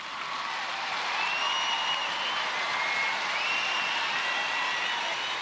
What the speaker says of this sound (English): Emmil Watson, a big round of applause.